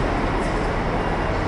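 Steady, loud rumbling roar of a moving temporary rapid-service train in Hokkaido heard from inside, a continuous broadband drone without breaks.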